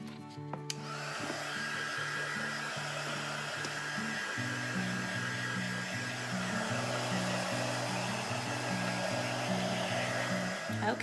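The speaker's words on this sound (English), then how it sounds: "I'm going to hit them really quick with my heat gun just to make sure they're good and dry." A heat gun blows a steady, loud whirring hum over freshly painted letters, holding one pitch and then shifting to a slightly different tone partway through, running continuously with no talk.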